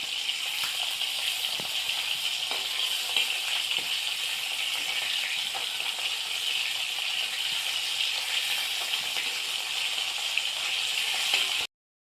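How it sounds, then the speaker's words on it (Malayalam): Prawns frying in oil in a pan for a prawn roast, a continuous bright sizzle with scattered crackles and pops, steady and close, without speech. "അതുകൊണ്ട് രണ്ട് സെറ്റായിട്ടാണ് ഞാനിവിടെ വറക്കുന്നത്"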